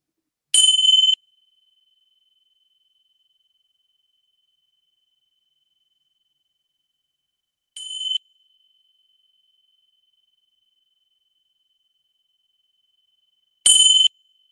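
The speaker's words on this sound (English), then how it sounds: "listen to how the listening bells feel in your body" Three clear listening-bell chimes ring out, each short and bright, separated by long stretches of silence.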